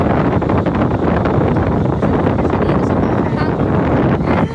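Strong wind batters a microphone in a continuous loud roaring rumble, steady gusts with little variation, easing slightly at the very end.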